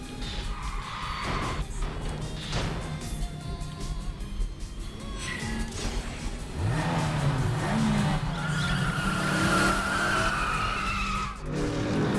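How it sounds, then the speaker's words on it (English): A car in Yakuza 5 drifts on the handbrake, tires skidding and squealing over a droning engine, the screech building louder and more sustained in the second half before cutting off. "it might be an actual like combination of handbrake and doing the drift"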